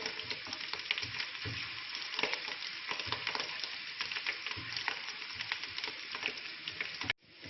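Garlic and ginger fry in a pan over a medium flame for egg fried rice, giving a steady, close, dense sizzle that runs the whole way through and then cuts off abruptly near the end.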